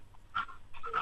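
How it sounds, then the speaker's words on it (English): A pet dog panting in a home room, a few quick raspy breaths in two short bursts, faint and close, with no talk. "Adam, excuse my dog."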